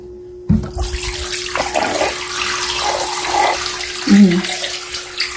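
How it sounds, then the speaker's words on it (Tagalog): Water drains and splashes out of an Iwata X100R air cooler after its plug is pulled, a steady close gurgling pour with a louder surge near the end, over a faint constant hum. "Konti na rin yung tubig niya and i-drain natin siya."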